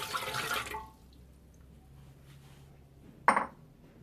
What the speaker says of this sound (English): So I'm throwing in the water now.